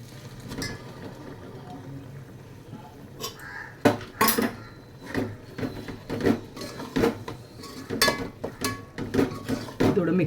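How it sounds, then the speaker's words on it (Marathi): Cooked moth beans and chickpeas tipped into a pot for village-style misal, giving scattered clanks of a spoon and utensils against the metal pot with soft wet sliding, fairly close, a few sharper knocks near the end. "आपली शिजवून घेतलेली मटकी आणि चणे आपल्याला डायरेक्ट ओतायचे"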